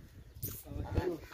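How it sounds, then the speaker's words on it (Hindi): Ducks in a friend's village yard give a short, fairly faint burst of honking quacks, close by, with a voice mixed in. "ये डक्स हैं, डक्स"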